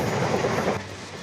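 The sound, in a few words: train passing on railway line behind garden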